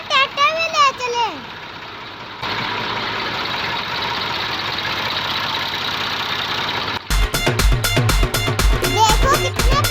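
A homemade Mahindra mini tractor engine idles with a steady mid-low rumble after a brief stretch of voices, then a louder rhythmic pounding section with music-like beats takes over.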